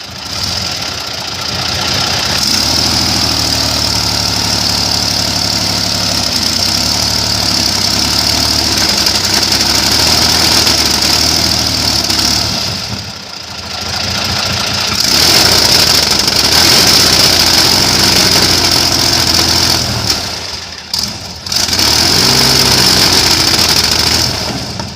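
An airboat engine idles steadily while warming up with oil pressure, a loud continuous rumble with a high whine, dipping briefly twice before settling back into its even running.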